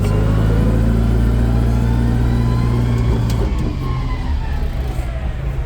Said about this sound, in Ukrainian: завдяки потужному двигуну навантажувач добре пришвидшується